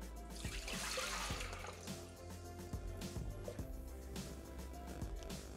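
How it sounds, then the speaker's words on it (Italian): Water is poured into an unwashed Thermomix mixing bowl (TM6, TM5 or TM31 kitchen machine), making a faint, steady trickle and splash with small intermittent knocks, quiet and close throughout. "Senza lavare il boccale, mettere l'acqua."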